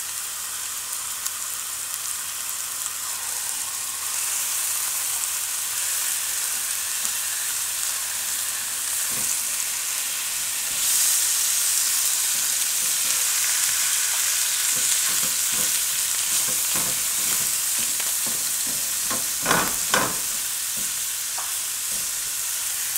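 Ground beef with Taco Bell taco seasoning sizzles steadily and loudly in a pan, with scattered scraping taps from a utensil breaking it up and moving it around, growing busier toward the end and heard alone without talk.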